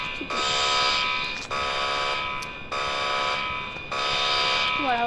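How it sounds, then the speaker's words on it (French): A building alarm sounds in loud, harsh electronic buzzing blasts, each lasting about a second with brief gaps between them, repeating four times. "Bon, l'alarme faut arrêter."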